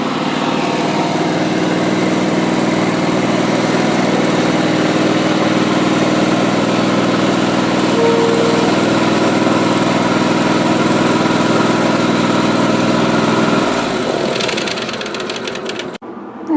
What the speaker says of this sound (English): I can hear Larry back running the log splitter, splitting some more.